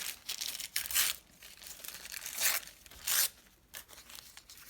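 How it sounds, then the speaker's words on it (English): A journal page is ripped apart in several sharp, close tearing bursts of uneven length, with crinkling paper between the rips. "I'm just going to rip into this one."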